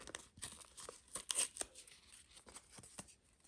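Close, quiet tearing and crinkling of a thin paper packet, a series of short ripping bursts with small rustles between them.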